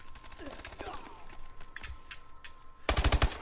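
Bulldog shotgun firing in Call of Duty Advanced Warfare, scattered sharp blasts with a rapid burst of heavy shots near the end, close and loud over game ambience.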